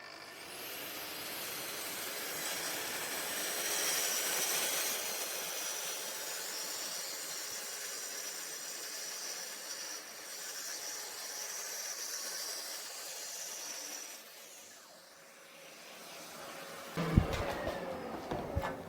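A circular saw fitted with a Freud blade cuts through a worktop offcut, producing a sustained harsh, hissing whine of blade through material for a long stretch, fading slightly before clattering noises at the end.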